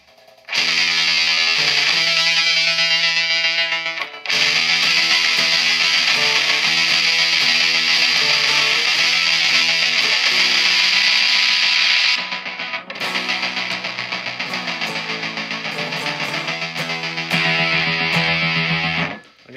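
An old Vox Grand Prix electric guitar plays through a repeater effect, loud sustained chords chopped into rapid repeating pulses, with brief gaps between phrases and no talking.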